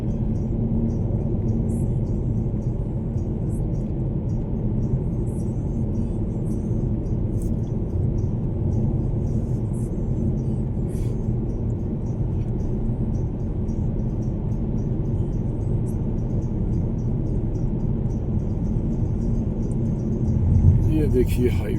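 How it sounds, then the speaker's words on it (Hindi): Highway traffic flowing on a mountain road trip, with a steady low rumble of car engines and tyres heard from inside a moving car, continuous and fairly loud throughout. "पूरा चलता हुआ ट्रैफिक है।"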